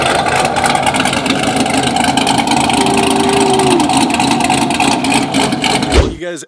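A supercharged 900-horsepower Chevrolet Camaro ZL1 engine idles steadily with a deep, rumbling drone, then a quick rev near the end before it cuts off abruptly.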